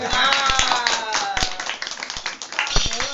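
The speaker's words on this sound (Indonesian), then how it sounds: "tepuk tangan ini" Hands clap among a lively village gathering in Plosokuning, Sleman, with scattered sharp claps over loud talking and a melodic voice, sounding near and busy throughout.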